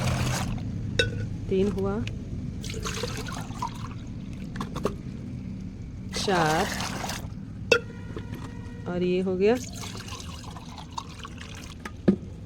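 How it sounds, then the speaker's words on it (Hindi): Water pours from a small pot into a container of curd mixture being made into a plant fungicide, several short splashing pours between counts, with someone speaking in Hindi throughout. "देखिए 5 लोटा हमने इसमें पानी मिला दिया"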